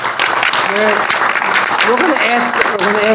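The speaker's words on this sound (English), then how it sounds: "So I wanted to give them a round of applause." A round of applause at a township council meeting, steady clapping from the room with voices talking over it.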